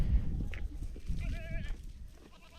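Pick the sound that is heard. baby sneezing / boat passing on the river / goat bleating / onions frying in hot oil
goat bleating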